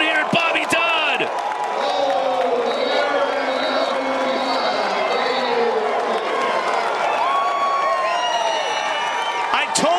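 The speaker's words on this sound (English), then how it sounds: "Daniel Kelly lights up the crowd here at Bobby Dodd." A crowd cheers at a college lacrosse game between Notre Dame and Maryland in a stadium. The roar is steady and sustained, with commentators talking over it and sharp whistle-like calls cutting through.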